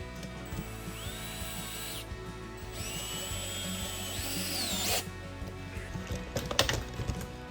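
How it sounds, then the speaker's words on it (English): A power drill bores a hole through wood while a collapsible garden wedding photo backdrop is being built. Two whining bursts rise and fall in pitch, separated by a short gap, followed by clicks and knocks from the tool. "Then I just drilled a hole straight through."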